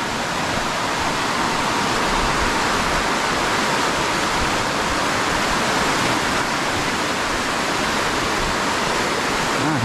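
A waterfall pours beside a mountain trail, a loud, unbroken rushing roar that fills the whole stretch evenly, with no voices.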